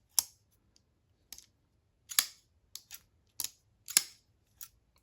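A button lock EDC knife is flicked open and shut, giving sharp metallic clicks and brief rattles in an irregular series of about seven snaps against near silence.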